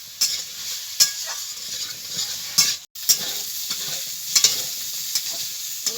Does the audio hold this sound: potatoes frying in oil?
yes